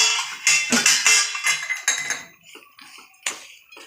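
Peanut chikki mixture with crushed peanuts is stirred quickly in a pan, giving close, bright metallic clinks and scrapes of a spoon against the pan in rapid bursts, with no talking.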